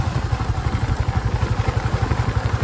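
An auto rickshaw tuk tuk on a quiet rural road, its small engine chugging in a fast, even pulsing rhythm close by and fairly loud.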